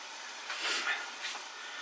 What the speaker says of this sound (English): So we're building up a head of steam inside there under fierce heat, still under the pan